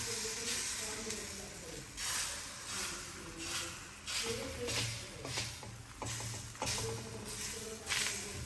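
Besan batter is spread across a hot oiled tawa, giving a steady hiss with rhythmic, scraping swishes of the spreading strokes, close and fairly quiet, without speech.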